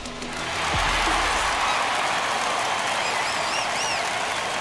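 A stadium crowd in the MLB The Show 21 baseball video game swells into loud, sustained cheering and applause after a home run. Whistles rise near the end.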